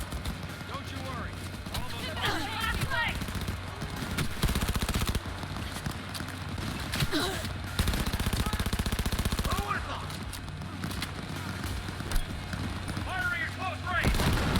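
Continuous heavy gunfire from a firefight in the video game Cyberpunk 2077, rapid bursts and shots layered over game noise for the whole stretch, with voices shouting through the fighting.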